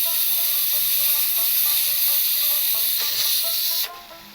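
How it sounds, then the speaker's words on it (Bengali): Steady loud hiss of water hitting spices frying in hot oil for ghugni, sizzling continuously before dropping off abruptly near the end. "আমি এবার কিছুটা জল দিয়ে দেবো, কারণ যাতে মশলাটা পুড়ে না যায়।"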